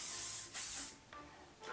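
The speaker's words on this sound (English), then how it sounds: "so I always add a little bit of a shine mist or something" Shine mist sprayed onto styled hair gives a few short, soft pump-spray hisses, close and quiet, each puff a brief airy burst with small gaps between.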